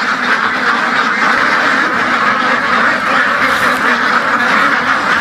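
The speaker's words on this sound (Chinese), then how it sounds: "鸭子就全都跑过来了，围着你转。" A large flock of around a thousand weeding ducks quacks loudly and continuously on a farm, a dense overlapping chorus up close with no pauses.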